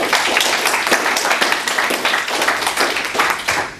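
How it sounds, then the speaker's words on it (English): A room full of people at a university business bootcamp talk gives a steady, loud round of applause, dense overlapping claps with a few sharper individual hand claps standing out throughout. "Can everyone give my friend Jervis a massive round of applause for helping me out with the camera?"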